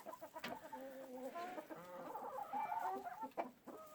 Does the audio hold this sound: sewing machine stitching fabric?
no